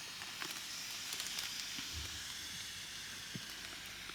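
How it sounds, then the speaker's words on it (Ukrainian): A flameless heater pack reacts in water, giving a steady broadband hiss and fizz with faint crackles throughout, close and continuous with no talking. "відбувається реакція, шипить, кип'ятиться вода"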